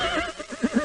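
A horse neighs in a children's reading game on PC, a close, loud whinny with quavering pitch that rises in two strong pulses near the end.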